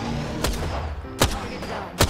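Gunfire in the video game Apex Legends, with three sharp, loud shots spaced roughly evenly apart over a low background rumble and no talk.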